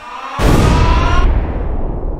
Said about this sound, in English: And an explosion.